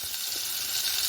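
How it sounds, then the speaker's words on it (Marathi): Mustard seeds and raw mango sizzle in hot oil for a tadka, giving a brief, steady, close hiss with faint popping. "छोक्का लगावते, छोक्का."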